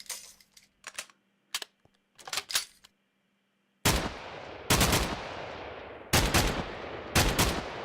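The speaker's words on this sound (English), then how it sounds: "let's try the M60. So, this is also an assault rifle." An M60 assault rifle in Minecraft fires in short separate bursts at first, then longer, louder sustained bursts of rapid shots with brief gaps, heard clearly with no talking.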